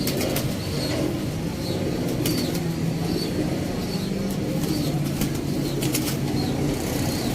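Repeated bursts of wing flapping from Sialkoti pigeons, steady and fairly loud, with a constant low rumble of background noise throughout.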